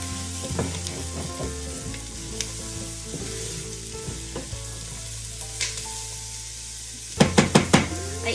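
Chopped carrots, three or four medium ones, sizzle steadily in a hot pan, with scattered knocks and scrapes of a utensil stirring them and a burst of louder clatter near the end.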